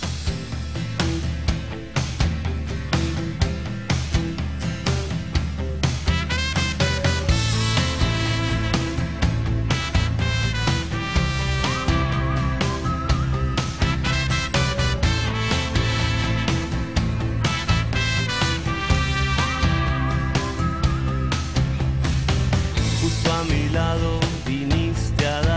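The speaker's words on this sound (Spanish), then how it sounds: "A ver, ponemos el disco, ponemos la púa y suena así" Music plays from a vinyl record set under a stylus on a radio program: a full, dense arrangement with steady bass and rhythm running continuously and loudly throughout, with no talking over it.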